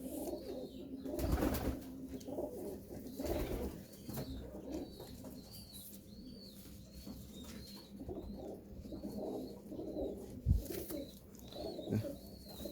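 Pigeons coo in soft, repeated low throbbing calls close by, with a few flutters and thumps among them and occasional higher chirps, no talking.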